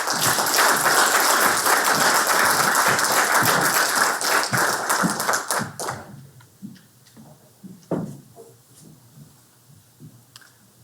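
Audience applause welcoming speakers at a public talk on climate-ready communities in Wisconsin, steady dense clapping for about six seconds that then thins to a few scattered claps and quiet room noise.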